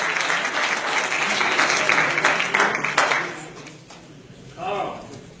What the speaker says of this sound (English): Give Blaine a round of applause.